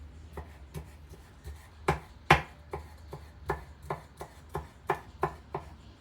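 A knife chops chili and onion on a board for a masala omelette, a run of crisp, irregular close taps over a quiet background, a few strikes louder than the rest.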